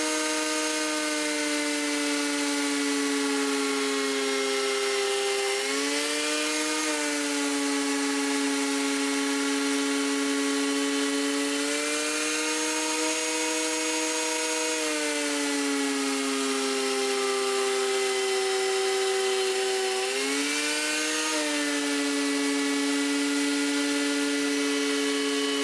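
A DeWalt wood planer jointing boards whines loudly and steadily at close range, with its pitch dipping briefly and recovering several times as each board feeds through.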